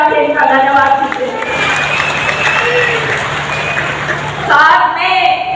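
Applause and crowd noise at a political rally in Tosham, a dense wash of clapping that fills the middle of the clip between stretches of a loud amplified voice, with the speech returning near the end.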